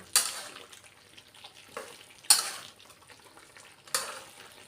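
Chicken stir-fried with red curry paste and eggplant in a pan, soft sizzling broken by three sharp scraping or clattering stir strokes at roughly even intervals, close and fairly quiet, without talk.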